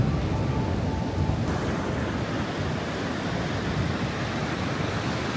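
Waves wash onto a beach in a steady, broad roar of surf that runs without a break and is slightly blown by wind, no voices.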